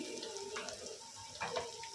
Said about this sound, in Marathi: ते मिक्सरचं भांडं हे करून घ्यायचं पाण्याने.